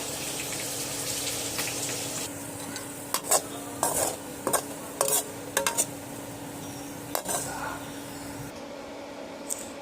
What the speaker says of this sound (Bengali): এবারে ওই কড়াইয়ের মধ্যে পেঁয়াজ আর কাঁচা লঙ্কাটা ব্রাউন কালার করে ফ্রাই করে নেব।